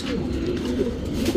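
A female rekhdar pigeon coos close by, a low, soft, rolling coo heard alone in a short burst.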